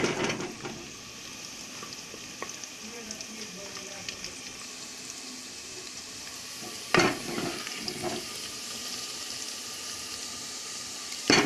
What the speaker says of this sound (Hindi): इसकी भुनाई करेंगे अच्छे से। प्याज लाल नहीं होने चाहिए, बस सुनहरी कलर के हो जाने चाहिए, और हरी मिर्च भी।